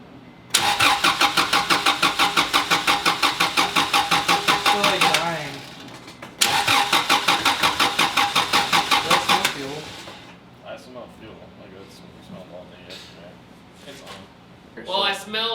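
An Acura Integra engine cranks repeatedly without catching, a fast rhythmic starter churn in two long bursts separated by a brief pause, close and loud, then quieter rattles as it stops.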